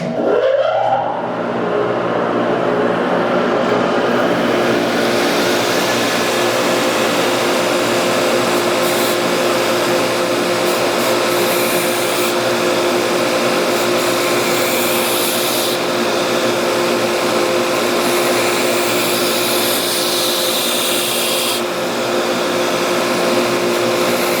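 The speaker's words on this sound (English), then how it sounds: "Here we go, dust collector on." A dust collector running beside a knife belt sharpener, a loud steady broadband roar with a constant hum throughout and no talk over it.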